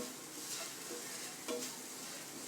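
A spoon stirs a sweet filling mixture with cardamom powder in a pan, producing faint, quiet scraping and light sizzling with a couple of soft clinks.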